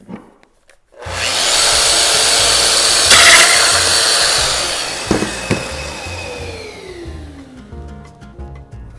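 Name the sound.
domino joiner used to open a beer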